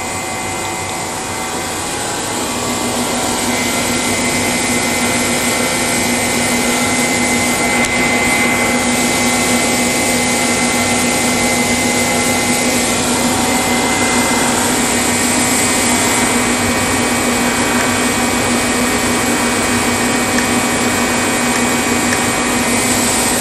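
An alternator spun by a test rig and loaded to about 97 amps while direct-charging a lithium battery, giving a steady loud whine with a strong tonal hum that holds level throughout, no voices.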